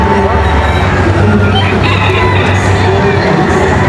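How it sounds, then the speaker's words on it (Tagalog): Many baby pullets, young chickens at a crowded exhibition booth, peeping and clucking continuously under loud, dense crowd noise and nearby voices. "Ito mga baby pullets niya."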